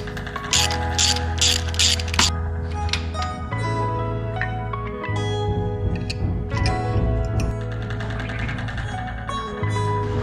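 A ratchet wrench loosens 10 mm car engine mount bolts in repeated bursts of close, sharp clicking. Short pauses separate the bursts of turning, and no one talks.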